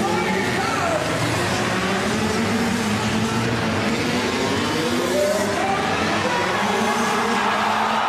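Harley-Davidson flat track motorcycles race in a continuous loud roar of engines rising and falling as bikes pass on the final laps, under excited race commentary.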